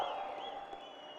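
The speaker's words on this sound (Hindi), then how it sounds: "आप जोर से तालियों के साथ इनका स्वागत कीजिएगा" Audience applause greeting Priyanka Gandhi at a Congress election rally in Solan, Himachal Pradesh; a brief, steady wash of clapping from the crowd, fairly faint, with no voices over it.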